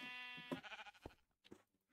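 Sheep bleating in the video game Minecraft: a loud, wavering, tremolo bleat up front, followed by a few faint scattered clicks and noises.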